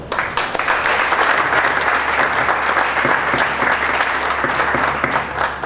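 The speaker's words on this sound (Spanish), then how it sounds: "Gracias, y los recibimos con un aplauso." Audience at a conference marking the 450th anniversary of the Legazpi expedition applauding to welcome speakers, dense, loud, continuous clapping from many hands filling the room throughout.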